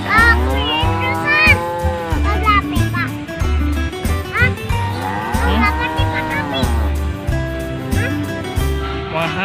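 Cattle bought as sacrificial animals for Qurban moo loudly and repeatedly, long low calls rising and falling close by, while children chatter and play throughout.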